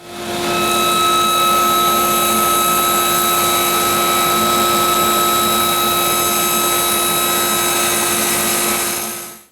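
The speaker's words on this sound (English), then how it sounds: "I've got all my wood ripped" A power saw rips wood into 3/4 inch wide strips, a loud steady whine with a constant tone that runs unbroken for about nine seconds before cutting off, with no talking.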